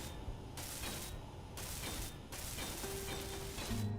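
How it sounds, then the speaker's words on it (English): Welding tool in the video game Space Engineers, a harsh buzzing, grinding mechanical noise in repeated bursts with brief pauses, fairly loud and close with no talk. "And weld it while I have access."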